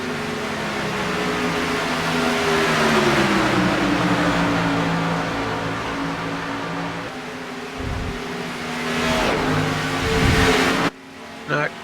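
Stock car engines in an ISDC Grand National Series race at Daytona, a sim racing event, drone loudly and steadily, with pitch sweeping as cars run laps. A commentator talks over the engines, and the sound cuts off abruptly near the end.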